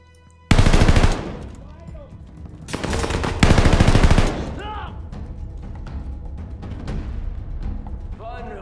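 A DP machine gun in Call of Duty Vanguard fires two loud, close bursts of rapid shots, and faint voices and game sounds trail afterward.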